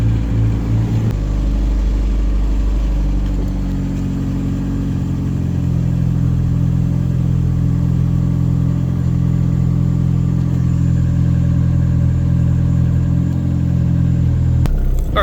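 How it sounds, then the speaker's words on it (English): A Volkswagen Rabbit pickup truck's engine idling cold, a loud, close, steady low rumble with a slightly elevated idle that holds evenly throughout, no voices. "Great running little truck. Just takes a minute to idle down when it's cold, but it'll get over itself momentarily."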